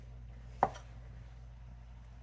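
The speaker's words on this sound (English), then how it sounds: "you just slice up the mushrooms" A single sharp knife stroke through mushrooms onto a cutting board, one quick close tap against a quiet kitchen background.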